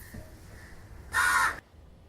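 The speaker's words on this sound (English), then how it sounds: "Yes, please ignore the crows." A crow gives a single loud, harsh caw through an open studio door, close and clear, cutting sharply through the quiet room before stopping.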